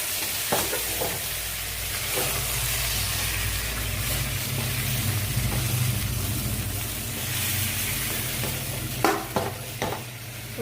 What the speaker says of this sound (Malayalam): ഇനി ഒന്ന് ഇളക്കി കൊടുക്കാം